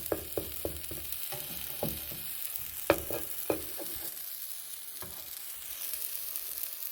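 Strawberry pancakes fry in a pan with a soft continuous sizzle, punctuated early on by a quick series of light spatula taps and scrapes, then settling into a quieter steady hiss, close by with no voices.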